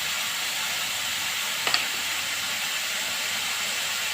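Fenugreek leaves (methi saag) fry with salt and turmeric in a pan, giving a steady broadband sizzle and hiss at close range, broken by one brief sharp crackle midway.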